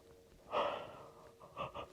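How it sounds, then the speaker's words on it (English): A person yawns aloud during a seated breathing and stretching session at a retreat: one long breathy yawn swelling and fading, followed by a couple of shorter soft exhalations, close and fairly quiet. "Makes me yawn."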